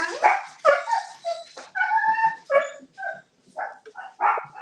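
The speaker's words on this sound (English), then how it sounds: "My dogs." Several dogs bark and yip in quick, irregular bursts close by, a rapid run of sharp calls with short gaps between them and no voices over them.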